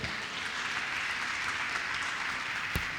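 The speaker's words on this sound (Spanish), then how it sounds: "Denle un aplauso a Jesús." A church congregation claps in a steady, dense patter that fills the room at an even level, with one brief knock near the end.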